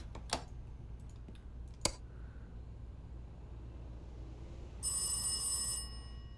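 A telephone in a horror video game rings with a bright, trilling electronic bell for about a second near the end, following a few sharp clicks and taps over a low, quiet ambient hum.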